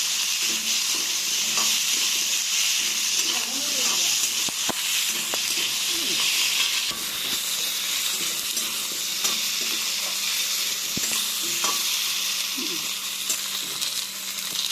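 Potatoes and green papaya fry in a hot pan with a steady, loud sizzling hiss that runs the whole time, with faint occasional stirring clicks and no talk.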